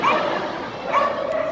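A small dog yips and whimpers in short, high, excited bursts at a Super Dogs show at the CNE in Toronto, heard over a busy arena background.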